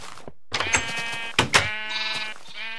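A sheep in the Minecraft video game lets out two loud, buzzy bleats in quick succession, clear and close, with no other sound around them.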